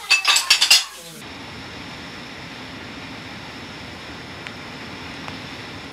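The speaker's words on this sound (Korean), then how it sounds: "오늘 설거지는 의좋게 형제가 나란히 한다" Cutlery and dishes clink and rattle loudly for about a second as two brothers wash up side by side, then give way to a steady hiss of running water or rain.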